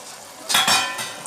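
Fried gobi being tossed and mixed through sauce in a pan, with a soft steady sizzle under a couple of louder scraping, stirring bursts, close by with no talking.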